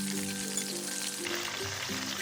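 Prawns frying in hot oil in a pan over medium heat for a Kerala-style prawn roast, giving a steady, continuous sizzle with a soft low hum beneath it, close and even throughout.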